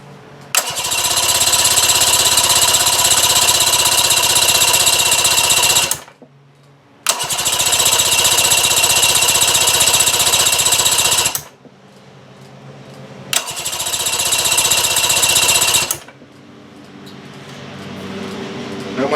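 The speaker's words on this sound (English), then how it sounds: "So let me just fire this up, and we'll see." An Evinrude/Johnson outboard motor fires up and roars loudly in three separate runs of a few seconds each, cutting out between them, with quieter pauses in between.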